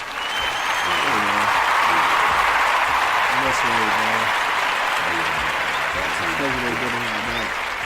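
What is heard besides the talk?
applause for Wade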